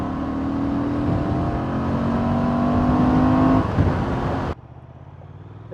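A 2024 Honda Transalp 750 motorcycle accelerates hard, engine note climbing steadily through the revs as wind rushes past, then cutting to a quieter, duller drone near the end.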